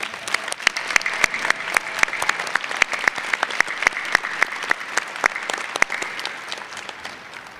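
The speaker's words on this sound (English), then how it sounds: "Please join me in giving them a round of applause for their service." Steady applause from a commencement ceremony audience honoring staff and volunteers, dense clapping with many sharp individual claps standing out, sustained and fairly loud throughout.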